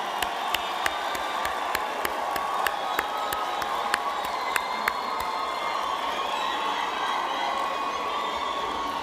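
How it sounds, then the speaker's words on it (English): Graduation crowd in a large hall gives sustained applause, dense clapping mixed with cheers and whoops, loud sharp individual claps cracking through the steady roar for several seconds. "give them a round of applause to say, Ngiyabonga kakhulu"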